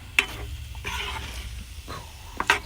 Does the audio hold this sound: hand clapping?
no